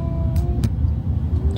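Low, steady engine rumble of a car sitting in traffic, with faint hiss and a couple of brief higher swishes over a constant drone, close and unbroken.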